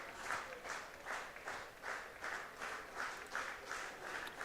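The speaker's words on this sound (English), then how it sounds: "Crowd clapping along." A baseball crowd at a Toronto Maple Leafs vs London Majors game claps along in a steady, rhythmic beat, roughly two claps per second, with broad stadium ambience all around.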